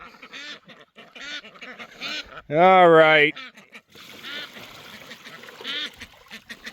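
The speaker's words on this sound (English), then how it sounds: "we have 2 runner ducks that look like pins" Runner ducks kept in a barnyard pen give a loud burst of raspy quacking, close to the microphone, while a person talks softly to them before and after.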